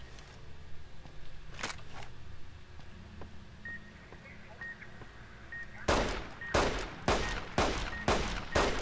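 Gunfire in Fallout: New Vegas Dead Money: a lone shot early, then a rapid run of loud cracking shots near the end, with faint electronic beeps between.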